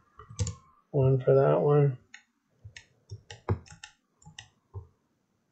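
Mouse clicks and keyboard taps while modeling a semi-automatic handgun display stand in DesignSpark Mechanical, a few short sharp clicks spread out in an irregular rhythm, close and fairly quiet, with a voice talking briefly early on.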